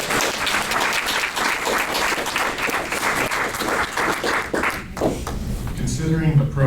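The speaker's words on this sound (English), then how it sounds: "Does anybody else feel a round of applause coming on from that?" A conference audience breaks into a sustained round of applause, dense clapping at steady loudness throughout, easing near the end as a voice begins to talk.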